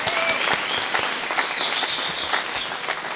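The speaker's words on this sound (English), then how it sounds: "Let's give our student athletes a round of applause." Audience applause for student athletes at a Taos Academy school sports recognition event, a steady sustained clapping from a crowd lasting the whole moment without pause.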